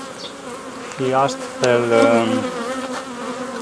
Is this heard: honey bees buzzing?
yes